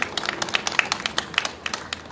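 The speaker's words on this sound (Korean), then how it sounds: "다시 한번 큰 박수 부탁드리겠습니다" Scattered clapping from a small audience at an outdoor candlelight rally against the THAAD deployment in Gimcheon, Korea, sparse and uneven claps at moderate distance with no speech.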